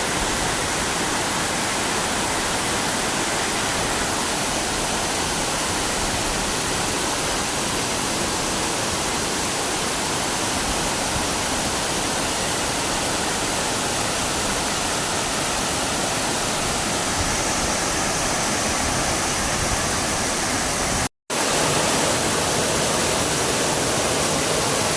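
Bantakay Falls pours in a steady, loud, unbroken roar of rushing water, dense and close, with only a split-second dropout near the end.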